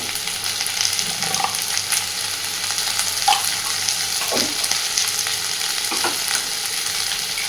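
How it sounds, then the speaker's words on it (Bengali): Potatoes frying in a pan with salt and turmeric, a loud steady sizzle carrying intermittent scraping stirs from a spoon or spatula. "আলুগুলোকে একটুখানি সময় নিয়ে সুন্দরভাবে ভেজে নিয়েছি"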